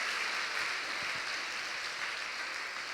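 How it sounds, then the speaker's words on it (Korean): A church congregation at a Korean Baptist pastors' conference applauds the guest preacher, producing a continuous, fairly soft rush of many distant claps that stays level for three seconds without speech. "우리 강사님께 다시 한번 박수로 감사하겠습니다"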